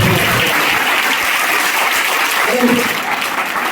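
A church congregation claps loudly and continuously, a dense wash of applause filling the room throughout, with voices mixed in.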